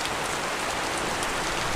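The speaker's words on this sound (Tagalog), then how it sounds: "Yan, lakas po ng ulan." Heavy rain from Typhoon Paeng in Bicol pours down in a dense, unbroken hiss, close and loud, with no voices.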